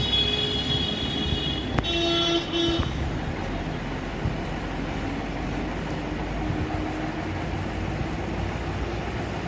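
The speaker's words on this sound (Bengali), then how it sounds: "আমাদের ট্রেন ঢুকছে, একটা বেরোচ্ছে" A train passing near Sealdah station in Kolkata, heard as a continuous rumbling roar with a brief horn toot early on, steady and fairly loud throughout, no voices.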